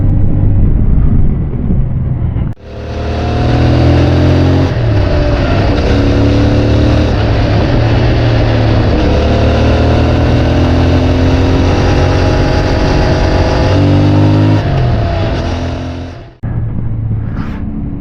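CFMoto 450MT motorcycle on a test ride, its engine droning loudly and close, pulling through gears with rising pitch sweeps and shifts, then easing off before a final rev.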